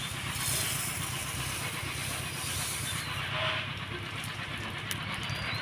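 Raw rice fries in melted ghee in a pan over medium-low heat, giving a dense continuous hiss and crackle that stays loud and even throughout, with faint stirring scrapes.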